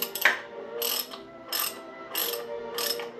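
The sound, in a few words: tightening gearbox bolt threads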